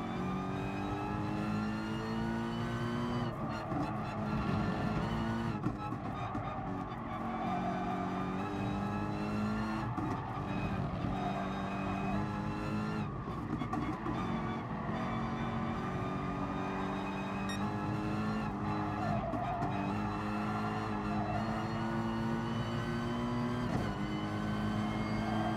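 Race cars in GT Sport, an online lobby elimination race, roar steadily throughout with sustained engine drone and shifting revs, occasional tyre skids breaking through, loud and continuous with no talking.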